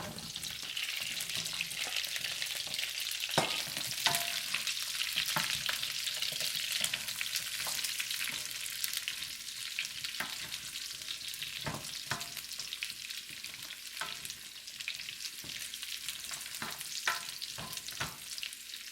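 Pork spare ribs sizzle and fry steadily in a hot wok, with a continuous crackling hiss and occasional sharp pops, close up and without talk.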